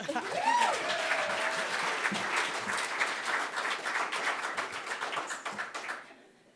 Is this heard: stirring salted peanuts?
no